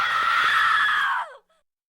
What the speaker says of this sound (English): The groans escalate into a loud, piercing scream.